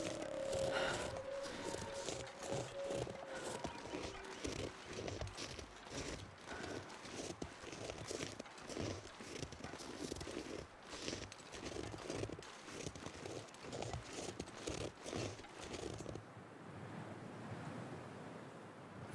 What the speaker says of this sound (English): I swear I just thought I heard footsteps.